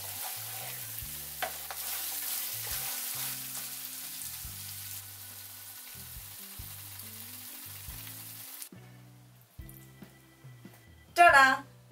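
Mutton ghee roast with curry leaves is stirred in a hot pan, a close sizzle with scraping strokes under a steady voice, then the frying fades to quieter clinks near the end.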